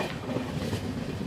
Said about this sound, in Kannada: ನಮ್ಮ ಟ್ರೈನ್ ಈಗ ವಿಜಯನಗರ ರೈಲ್ವೆ ಸ್ಟೇಷನ್ನ ಸ್ಕಿಪ್ ಮಾಡ್ತಿದೆ.